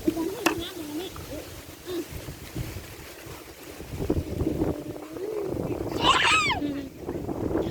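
Cold wind blows steadily outdoors by a pond, a continuous rushing roar with gusty buffeting on the microphone throughout, while people talk over it.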